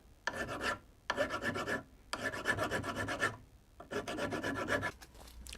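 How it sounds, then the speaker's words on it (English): A hand file rasps back and forth over a TIG weld on a stainless steel shaft, knocking down the high spots. Four steady strokes come close and clear, each about a second long with short pauses between them. "I'm just taking off the high spots by running the file over it"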